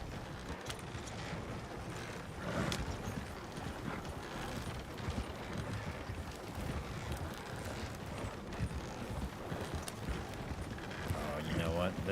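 Horses clip-clopping in a Western role-play video game, a steady hoof rhythm that runs under a voice talking.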